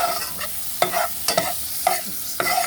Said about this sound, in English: I'm gonna keep stirring this.